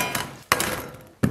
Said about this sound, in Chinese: 先把大葱啊，咱们切成这种小段